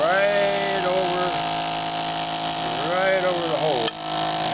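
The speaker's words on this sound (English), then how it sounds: "So now we're going to turn on the seal-a-meal. I got the vacuum." A small electric vacuum sealer pump hums steadily with a buzzing motor whine that shifts in pitch while drawing vacuum on a jar, a voice talking over it, then a brief click.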